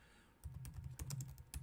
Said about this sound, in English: I'm literally typing in what is a digestive tract